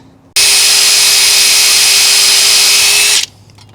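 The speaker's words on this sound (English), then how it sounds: "So I'm going to get a drill bit and drill through this thing." A power drill drilling through metal starts abruptly and whines loudly at a steady high pitch for about three seconds, then cuts off.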